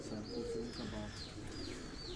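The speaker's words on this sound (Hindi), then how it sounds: "ये छत वाले कबूतर हैं जी हमारे" Rooftop pigeons belonging to a pigeon keeper coo softly and repeatedly, their low throaty calls overlapping under a steady noisy background with a few faint chirps.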